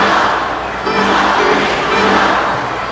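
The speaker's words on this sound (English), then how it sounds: "A couple of Schultz fans in the crowd" Hockey arena crowd at a Stanley Cup quarterfinal between Toronto Maple Leafs and Philadelphia Flyers, a loud, sustained roar of fans shouting and yelling with swelling bursts throughout.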